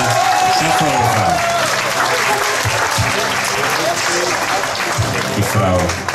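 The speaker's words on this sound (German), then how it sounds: "Applaus für die Katharina Schafferhofer." Loud, sustained crowd applause fills a parish festival fashion show as a model walks the runway, dense clapping mixed with music or voices underneath.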